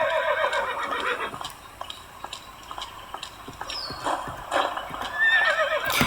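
Horse in the Alexandra Ledermann 4 riding game neighing in shrill whinnies over steady clip-clop of hooves, with a brief squeaky chirp, fairly close and clear.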